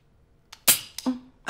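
A sharp pop sounds alone in a quiet room during a theatre scene, followed by a second, smaller burst and a brief ringing tail, with a few faint clicks around it.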